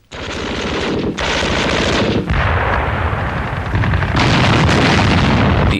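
Self-propelled guns firing in battle against tanks produce a dense, loud, continuous roar of heavy gunfire and blasts, sustained without pause.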